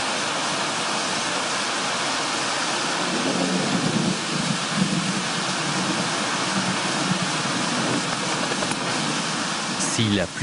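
Steady rain pours down in a dense, continuous hiss, with low rumbling water noise swelling midway and holding to the end.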